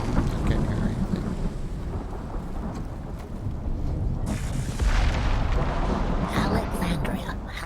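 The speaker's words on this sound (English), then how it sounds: "Alexandria, how long will the storm last?" A video game thunderstorm rolls on with continuous deep rumbling thunder and rain-like wash, swelling loud and near midway through, while voices murmur faintly beneath the storm.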